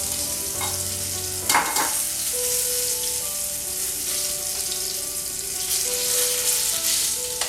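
Pork chops frying in a pan, giving a loud, steady sizzle and crackle that runs throughout with a few brief clatters of stirring; no one speaks.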